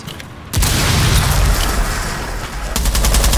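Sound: breaching blast and gunfire in Rainbow Six Siege video game

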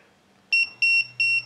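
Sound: hipKey app alarm going off after unpairing

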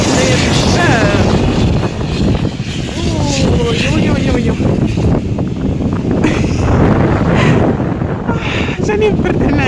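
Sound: wind blowing at the port of Essaouira

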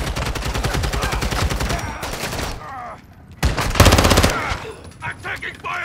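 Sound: gunfire in Call of Duty MWII DMZ video game

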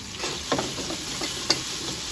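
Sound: chicken browning in a hot pan

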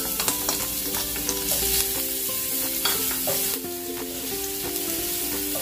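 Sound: garlic sautéing in hot oil

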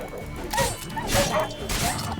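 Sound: dog barking in the video game The Witcher 3: Wild Hunt

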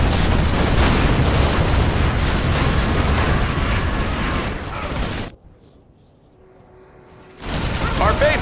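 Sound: rockets exploding in the video game Command & Conquer Generals

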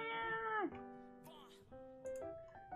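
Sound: person imitating a cat meow

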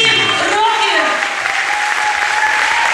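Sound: audience applause

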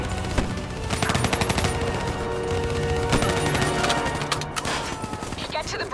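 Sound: gunfire in video game Call of Duty: Black Ops III

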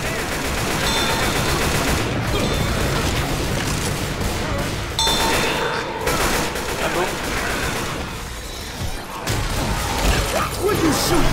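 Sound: gunfire in the video game Left 4 Dead 2

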